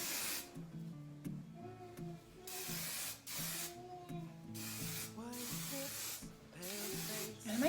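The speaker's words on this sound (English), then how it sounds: "I'm going to spray down here" Hairspray hisses from an aerosol can onto hair in several short bursts, faint and close, with steady background music underneath.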